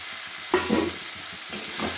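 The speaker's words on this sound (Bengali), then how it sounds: "পটল আলু যে ভেজে রেখেছিলাম এগুলো আমি দিয়ে নিলাম" Potol and pre-fried potatoes dropped into spiced oil, a soft sizzle with a brief scrape and clatter of stirring, near and short.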